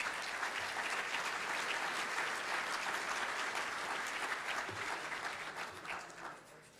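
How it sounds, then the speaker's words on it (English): An audience at a county economic summit applauds in a dense, sustained wash of clapping that holds steady and then tapers off slightly toward the end. "Round of applause for all of them, please."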